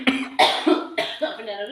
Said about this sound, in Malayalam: എനിക്ക് ചുമ വന്നിട്ട് ചുമച്ചാണ്.